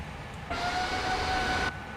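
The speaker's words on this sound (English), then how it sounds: "Yep, that's the other plane you can hear." A steady airplane engine drone from a flight simulator game swells in for about a second, with a thin tonal whine riding on it, then cuts off abruptly.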